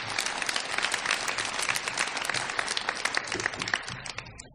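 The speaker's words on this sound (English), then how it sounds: "Would you give him a huge round of applause?" A graduation audience bursts into hearty applause for a congressman, many hands clapping in a dense, lively patter with a few louder individual claps, dying down at the very end.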